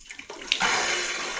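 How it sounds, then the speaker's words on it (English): A household hot tap opens after new check valves were fitted, a faint click and sputter giving way to a loud, steady rush of running water that continues to the end. "So when we open a hot tap"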